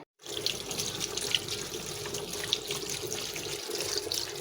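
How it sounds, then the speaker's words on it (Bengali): Malabar spinach being rinsed under a running kitchen tap, a steady close rush of water splashing into the sink with faint drips, continuous and without talk. "এই যে আমার পুঁই শাকগুলো ধোয়া হয়ে গেল"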